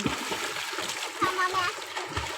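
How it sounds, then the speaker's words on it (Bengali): Water splashes and sloshes in short bursts as someone bathes in a river, with voices talking faintly in the background. "ওই যে আলিপ গোসল করে"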